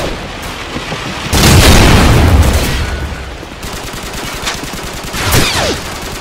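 Mounted machine gun firing in Call of Duty 4 online play: a dense, loud burst of automatic fire lasting a couple of seconds, trailing off into fainter distant shots, with another sharp burst near the end.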